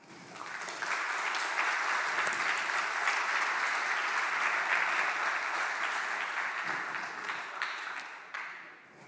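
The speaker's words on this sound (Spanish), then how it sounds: "Un fuerte aplauso. Otro, se merece otro." Applause from a conference audience after a talk on hacking HR, a full, even round of clapping that swells quickly, holds steady, then tapers off at the end.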